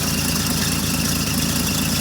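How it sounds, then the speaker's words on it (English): A rebuilt 1956 Kaiser Super Hurricane six-cylinder engine, a Continental, runs smoothly, with a steady, loud idle drone and even vibration throughout. "Pretty interesting old engine, nice, smooth running."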